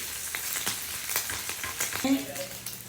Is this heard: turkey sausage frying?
yes